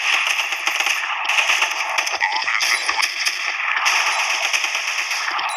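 Rapid bursts of gunfire crackle continuously in the video game Special Force 2, dense and loud, with brief shifts in intensity.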